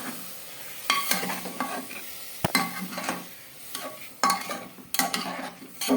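Spices, potato and rice stirred in a pot for vegetarian khichuri, with irregular scraping strokes of a spoon against the metal over a soft, steady sizzle, close up and with no voices.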